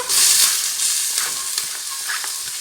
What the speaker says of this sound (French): dans une marmite, je vais mettre un tas d'huile d'olive, les oignons coupés finement ainsi que l'ail